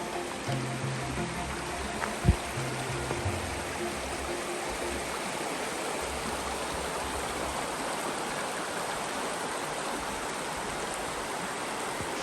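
A mountain river rushes steadily beside a campsite in the Carpathians, a constant broadband roar of flowing water heard close and unbroken, with a brief low thump early on and faint low rumbles underneath.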